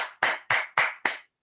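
Applause from participants at a national webinar, four short bursts of clapping at an even pace, clear and close, with no talk over them.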